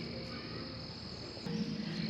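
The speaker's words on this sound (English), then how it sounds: "I'm seeing a lot of fat toads." Toads croak in a garden on a calm morning, a faint, steady low trill under a soft high insect-like hiss that grows slightly louder near the end.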